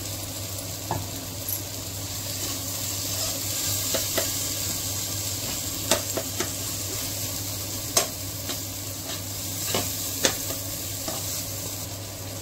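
Brinjal curry simmering in a pan after water is added, a steady soft sizzle with occasional sharp scrapes and taps of a spoon stirring, close and continuous with no talking.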